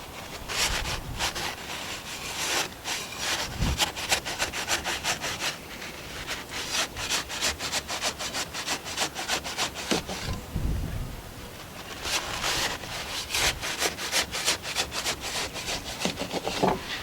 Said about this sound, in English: I'm just using a drywall knife to make my lines here.